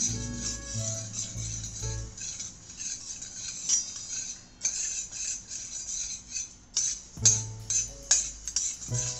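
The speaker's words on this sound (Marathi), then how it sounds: "आता धणे भाजून घ्यायचे।" Coriander seeds dry roasting in a pan, with a spoon clinking and scraping against the metal in irregular bursts, close and moderately loud over faint background hum.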